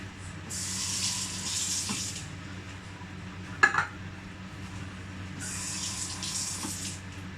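A tap runs steadily into a kitchen sink while something is washed under the stream, with water gushing on and off in bursts and a sharp clink of dishes or utensils in the middle.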